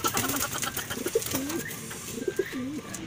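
Racing pigeons at a loft coo in short, throaty bursts, two or three distinct rolling calls near the listener over faint background rustle and ambient noise.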